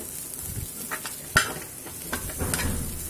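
Cluster bean stir-fry sprinkled with coriander leaves is tossed and mixed in a pan, with soft sizzling under scattered scraping strokes and a sharp utensil clink against the pan partway through.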